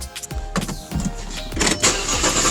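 A 2006 Audi A6 3.2 Quattro with a fuel pressure regulator fault cranks slowly and struggles to start, the starter churning in a long rhythmic run before the engine catches and keeps running, recorded close up.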